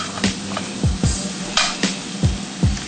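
Garlic frying in a pan beside salmon, a soft steady sizzle broken by repeated scraping strokes of a utensil against the pan, close and fairly loud, no talk.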